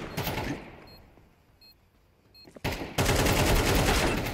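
Gunfire in Counter-Strike 2, bursts of loud automatic shots at the start and again in the final seconds, with a quieter stretch between.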